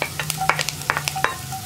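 Chopped ginger and green chillies sautéing in hot oil for egg bhurji, a brief close burst of stirring scrapes and clicks over a light sizzle, several quick strokes in a row.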